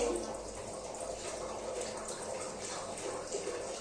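Tap water runs steadily over food being washed in a kitchen sink, a soft continuous rushing splash heard close and fairly faint.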